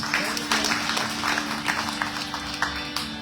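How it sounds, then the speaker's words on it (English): An audience at a satsang in a Guyana mandir claps in a round of moderate, fairly close applause that runs steadily throughout. "please give him a round of applause"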